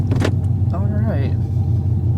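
A Chevrolet Camaro SS fitted with loud, cheap aftermarket headers idles with a deep, steady rumble, while people talk briefly over it.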